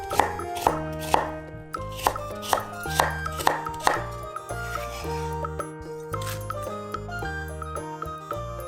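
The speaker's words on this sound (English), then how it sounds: "Some carrot thinly sliced." A knife thinly slices carrot with a steady run of crisp, rhythmic cuts, fairly close, under continuous background music.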